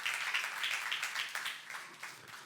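Church congregation applauding during a youth service sermon, a fairly soft, continuous patter of many hands clapping with slight swells, heard at a moderate distance and fading toward the end.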